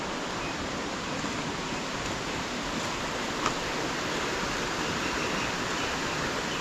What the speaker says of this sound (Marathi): वाहतं पाणी.